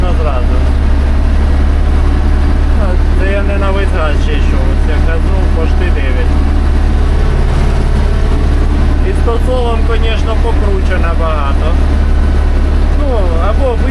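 An MTZ 1025.2 tractor engine drones steadily and loudly while pulling a ripper through the soil, its wheel starting to slip, as people talk over the constant low rumble.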